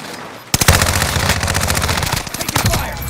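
Rapid automatic gunfire from Call of Duty Warzone in Rebirth Resurgence mode, bursting in loud after a brief lull and rattling on in dense, continuous volleys with sharp individual reports.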